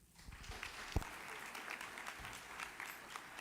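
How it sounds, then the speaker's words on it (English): Applause from an audience at a community cultural festival celebration, a steady wash of clapping at moderate distance with a few louder individual claps standing out, filling the whole stretch without voices. "And a big round of applause to Umaji"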